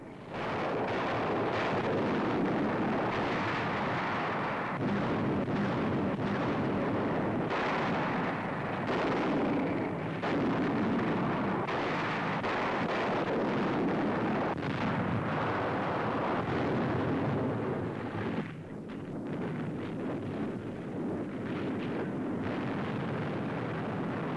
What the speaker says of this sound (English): Some bearing artillery and rocket guns already opening fire.